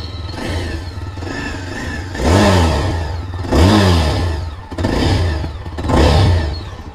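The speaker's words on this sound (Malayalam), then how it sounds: "അതിനു മുമ്പ് നമുക്ക് വണ്ടിയുടെ എക്സോസ്റ്റ് നോട്ട് ഒന്ന് കേട്ടു നോക്കാം." A 2022 Yezdi Adventure BS6 motorcycle revved repeatedly while standing, four loud rising-and-falling exhaust blips over a steady idle, recorded close to the bike.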